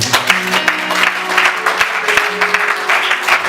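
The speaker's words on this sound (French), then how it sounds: "Acclamez le Seigneur." A church congregation at a Sunday worship service breaks into loud, sustained applause. Dense clapping fills the room close by, with a faint held tone underneath.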